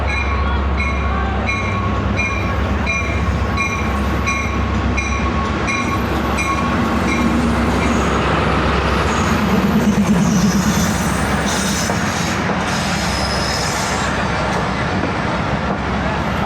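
A passenger train led by ZCU locomotive 306318 rolls steadily past close by for the whole stretch. It gives a continuous loud rumble and the rhythmic clatter of its wheels, with a horn-like tonal whine early on.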